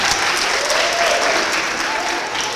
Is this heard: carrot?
no